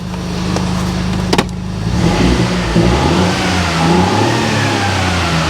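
A replacement engine in a flood-damaged car idles, then revs up loudly a few times to no more than 3,500 rpm, the pitch rising and falling close by.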